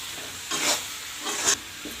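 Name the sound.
potatoes and chicken frying in pan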